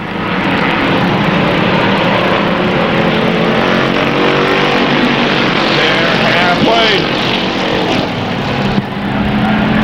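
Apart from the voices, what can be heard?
race cars on an oval speedway track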